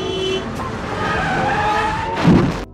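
A car skids with screeching tires as a man jumps in front of it in a comedy film scene; engine and road noise build steadily before a brief, loud skid burst near the end.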